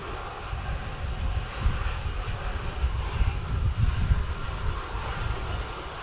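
Jet engines of a Turkish Airlines Airbus A330 at Manchester Airport rumble steadily in a deep, broad roar with a faint whine, heard from a distance outdoors on a windy, rainy day.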